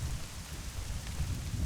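Steady rain falls in the video game Eleusis, a soft, even hiss with a low rumbling undertone that continues without pause; no voices are heard.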